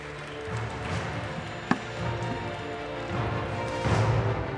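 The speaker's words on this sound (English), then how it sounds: "a round of applause for this panel" A crowd gives a round of applause for a panel at a NATO summit, a thick, continuous wash of hand claps with one sharp knock partway through, swelling a little louder near the end.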